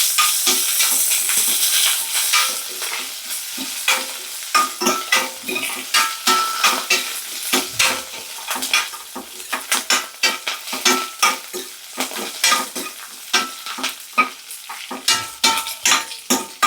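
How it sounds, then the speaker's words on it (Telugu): Garlic, dried red chillies and curry leaves frying on low flame in a pan, with a steady soft sizzle broken by frequent sharp scrapes and clinks of a spoon stirring against the metal, close and alone without voices. "నేను సిమ్లోనే పెట్టి ఫ్రై చేస్తున్నానండి, మళ్ళీ ఎండుమిరకాయలు నల్లగా అయిపోతాయని."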